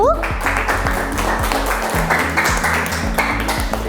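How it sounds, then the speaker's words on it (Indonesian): A classroom group claps for Group 1 after a presentation, a moderately loud, continuous patter of hands with a few sharper individual claps standing out. "Tepuk tangan untuk kelompok 1."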